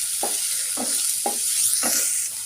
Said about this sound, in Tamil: வெங்காயம் நல்லா வதங்கி வந்துடுச்சு.